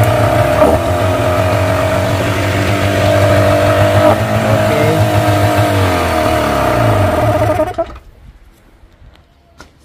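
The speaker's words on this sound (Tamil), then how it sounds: "இந்த இன்ஜின் வந்து பூட்டி இதெல்லாம் ஸ்டார்ட் பண்ணியாச்சு" An engine idles loudly and steadily with a droning hum, then cuts off abruptly near the end, leaving near silence.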